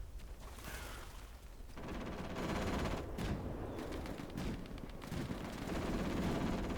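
Quiet explosions boom in the background of an Atomfall game scene, a dense rumbling series of distant blasts and gunfire-like bursts with no talking.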